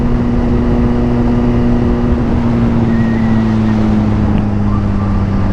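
A warmed-up Suzuki Gixxer 1000R motorcycle engine runs steadily with a loud, close, continuous hum and no pauses, during a morning ride.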